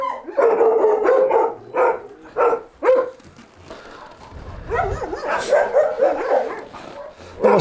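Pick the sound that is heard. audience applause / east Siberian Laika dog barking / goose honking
east Siberian Laika dog barking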